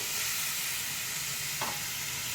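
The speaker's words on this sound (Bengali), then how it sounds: "এবারে আমি জল দিয়ে দিচ্ছি" Water hitting a hot pan of soybean and potato curry sets off a loud, steady, broadband sizzle that holds throughout, with one brief clink partway through.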